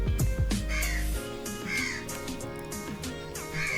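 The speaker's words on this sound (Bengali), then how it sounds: "বড্ড বেশি পাখিগুলো ডাকছে" Crows caw loudly and repeatedly outdoors, harsh calls recurring in spaced bursts with a brief low rumble at the start.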